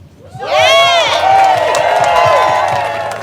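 A crowd of protesting healthcare workers cheers and whoops loudly outdoors, the shouting swelling quickly and holding for a few seconds, with scattered claps and voices mixed in.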